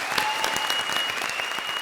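A studio audience at a TV comedy show applauds in continuous, lively clapping, with a thin sustained musical tone running beneath it.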